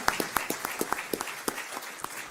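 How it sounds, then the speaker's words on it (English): Scattered hand claps from a small audience honoring chapter members at a board meeting, a dozen or so distinct, uneven claps over a couple of seconds, fairly quiet and thin. "give them a round of applause."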